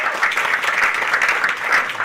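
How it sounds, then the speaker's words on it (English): Audience at a Broward College panel evening on homelessness applauding the three panelists, a dense, even burst of clapping from a crowd, fairly close and loud, with no voices over it. "So a round of applause for all three of our panelists."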